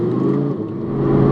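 Audi R8 V10 Plus, a first-generation model, driven on the road with a steady, loud engine drone and whir, held at an even pitch without any clear revving.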